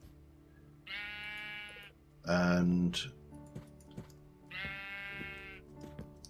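Sheep in a modded Minecraft-style game (Thaumaturge) bleat in two clear drawn-out calls near the start and end, with a louder burst of game noise between them and someone talking briefly.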